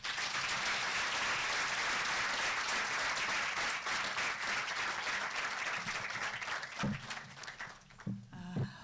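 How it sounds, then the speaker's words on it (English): A large audience applauds at a medical school white coat ceremony after the opening address, a dense, continuous clapping that gradually thins and fades out toward the end. "Please, let's give another round of applause to our Vice Chancellor."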